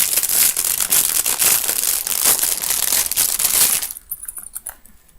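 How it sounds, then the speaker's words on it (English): Plastic nail polish packaging from a haul of Barry M Coconut Infusion and Makeup Revolution products crinkles and rustles loudly and steadily for about four seconds, then drops to a few faint, sparse crackles. "It's no good me talking when the rustling's going on."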